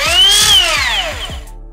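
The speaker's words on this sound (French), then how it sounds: "Donc 6 spirales. Ça affleure, ça découpe les plaques de plâtre." A Hilti SCO6 A22 cordless 22-volt spiral cutter used for plasterboard gives a brief, loud high-pitched motor whine that sweeps down in pitch as it spins down, alone.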